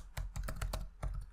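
Quick bursts of keystrokes on a computer keyboard at a Raspberry Pi terminal, about seven clicks in an uneven rhythm, close and fairly quiet, with no voice.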